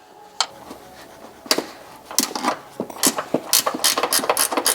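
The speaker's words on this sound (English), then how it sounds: "You'll be undoing this bolt right here. For this, I'm going to be using a closed end wrench." Closed end wrench working a hood bolt on a Subaru BRZ, giving scattered sharp metallic clicks at first, then a quicker run of rhythmic ratcheting ticks, close up and without talk.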